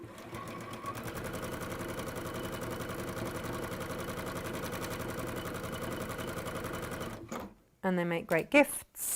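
Sewing machine stitching a seam in fabric, a fast, even mechanical chatter running steadily for several seconds before stopping, followed by someone speaking.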